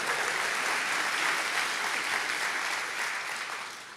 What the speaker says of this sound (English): Not everyone clapped just then.